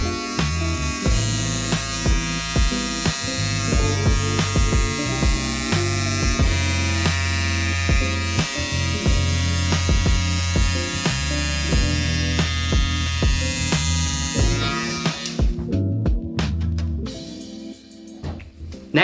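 Electric hair trimmers buzz steadily and close up while shaving a head under a cape before a lace hair system is fitted, with the motor pitch wavering as the blades pass over the scalp and then stopping near the end.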